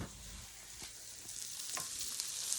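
Eggs cracked over a pan of breakfast chilaquiles, a quiet continuous frying sizzle with a couple of faint taps and shifts, low and steady throughout.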